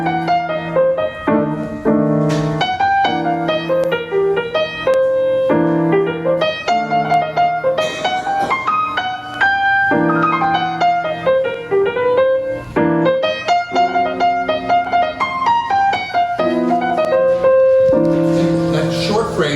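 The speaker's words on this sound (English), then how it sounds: "That's short phrases, mostly swing eighth notes." A piano improvises jazz lines, short phrases in swing eighth notes over chords, loud and close, with no talking.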